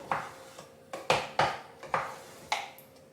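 A spoon knocks and scrapes against a pot while custard cream is stirred and brought to a boil, giving about seven sharp, fairly close clinks at an uneven rhythm with no talk.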